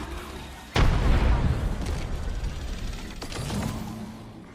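Frag grenade detonating in Apex Legends, one sudden loud boom that rumbles and slowly decays, followed by a smaller secondary burst of game noise.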